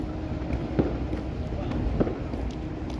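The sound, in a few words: fireworks going off in the city at night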